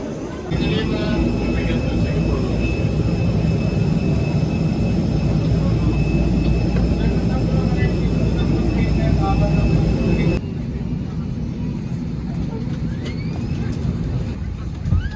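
Steady low roar of a Jetstar Asia Airbus A320-200 economy cabin in flight, a dense broadband engine and airflow drone with faint tonal hums that drops slightly in level near the end.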